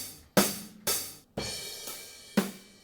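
Sampled acoustic drum kit hits from DrumGizmo triggered by MIDI notes, four separate loud, close strikes with ringing decay, spaced roughly half a second apart with a pause before the last.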